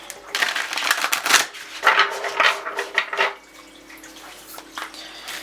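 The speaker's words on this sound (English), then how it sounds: "We will give the cards a shuffle." Rapid riffling and flapping of cards being shuffled, a series of crisp bursts that fade into quieter handling noises.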